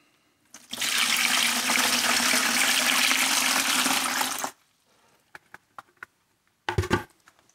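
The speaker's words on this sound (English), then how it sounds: "So we'll add the rest of the water." Water pours into a tub of Laguna B-mix clay being mixed into slip, a loud, steady rush lasting about four seconds, followed by a few small clinks and a brief splash.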